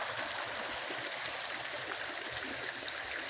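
Steady, gentle rushing of a little brook fed by a waterfall at a dried-out former lagoon in Mérida's Chorros de Milla park, continuous and even throughout with no voices.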